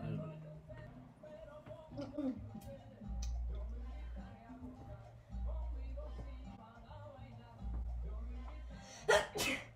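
A sneeze bursts out briefly near the end, following a stretch of family chatter and clinking at a seafood boil meal, with a low hum underneath throughout.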